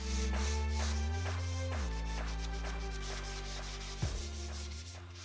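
Wood is sanded with 220-grit sandpaper: a steady, close rubbing hum with slight shifts in pitch and one brief knock near the end.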